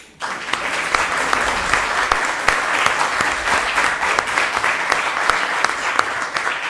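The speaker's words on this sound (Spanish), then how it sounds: "Yo creo que también merecen un fuerte aplauso." An audience at a university venue claps in sustained, dense applause at a human rights event on migration and refugees, the sound starting abruptly and continuing evenly without voices standing out.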